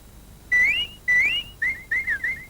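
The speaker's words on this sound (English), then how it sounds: "I'm sure nobody meant to be cross," whistled Birdie" A cartoon bird character whistles a quick chirpy phrase of five short rising and falling tones, clear and close against a quiet background.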